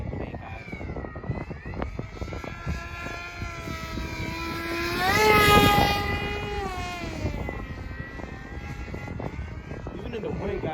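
An FT Flerken RC model airplane buzzes overhead with a steady high propeller whine that swells and pitch-shifts as it passes close around the midpoint, then fades, while a person talks over wind noise.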